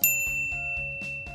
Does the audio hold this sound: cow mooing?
no